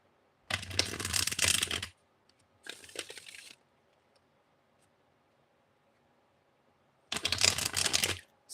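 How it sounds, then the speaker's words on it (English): Tarot cards are shuffled in three separate bursts of quick, crisp riffling, with short quiet gaps between them. "So let's pull 3 cards and see what we get."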